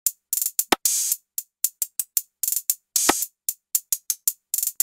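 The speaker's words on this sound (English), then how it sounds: "The only thing that we added for the drums was this little kind of trap hat fill." A trap hi-hat fill in a dark, ambient hip-hop beat. It plays crisp, short ticking hits in an uneven rhythm, with quick rolls and a few longer open hats, clean and up front without other sounds.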